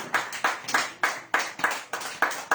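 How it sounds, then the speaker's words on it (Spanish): Church congregation clapping together in a steady rhythmic beat, roughly three sharp claps per second, fairly close and clear with no voices over it. "Palmas al Señor, mi amado hermano y hermana. Regalen la palma al Señor."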